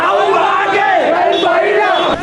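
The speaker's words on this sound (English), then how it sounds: "Young crowds added their voice to the protest in Kapetipola in Valimata today." Protesters in Kapetipola, Valimata, shouting together in a loud, sustained roar of massed voices with rising and falling chants, close and continuous throughout.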